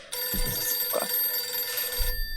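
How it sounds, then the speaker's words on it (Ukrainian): A telephone rings with a steady, sustained electronic tone that runs almost unbroken, with a few soft low thumps beneath it, until it cuts off abruptly near the end. "ну, это, конечно же, мне звонят"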